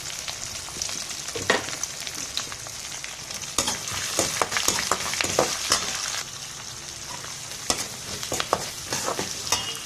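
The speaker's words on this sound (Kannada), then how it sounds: "ನಂತರ ಕಟ್ ಮಾಡಿರುವಂತಹ ಈರುಳ್ಳಿ ಹಾಕಿ ಚೆನ್ನಾಗಿ ಫ್ರೈ ಮಾಡಬೇಕು" Chopped onions fry in a pan with cumin and chana dal for a Kannada potato palya, a steady close sizzle broken by repeated sharp scrapes and clicks of stirring, with no voices.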